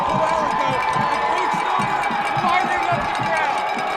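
A high school football crowd roars steadily through a state district championship game, a dense wash of cheering and shouting that holds loud and continuous with a voice talking over it.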